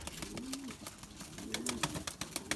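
Pigeons coo softly inside a coop, a couple of rolling low coos rising and falling over faint background rustles and clicks, quiet and close with no speech.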